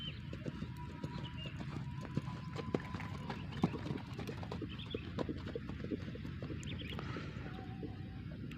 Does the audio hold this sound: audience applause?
no